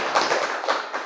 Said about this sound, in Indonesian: kita tepuk tangan dulu untuk Ibu